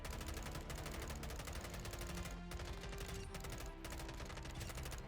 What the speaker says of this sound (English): This basically makes the M16 fully automatic with a fire rate higher than some of the assault rifles